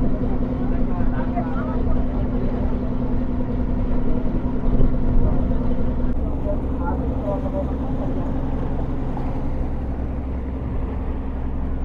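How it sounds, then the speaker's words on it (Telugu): A tourist boat's engine drones loud and steady as it sets off across the water toward Bhavani Island in Vijayawada, a low continuous rumble throughout with wind and faint background voices. "మన బోట్ బయలుదేరింది."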